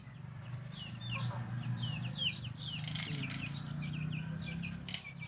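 Chickens kept beside a home in a rural Philippine province cluck and chirp in a steady scatter of short calls, with soft flapping and a low background hum throughout.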